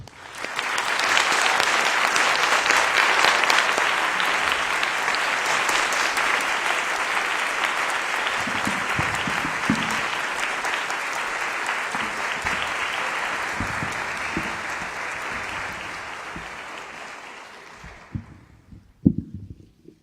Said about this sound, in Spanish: les pedimos un aplauso de bienvenida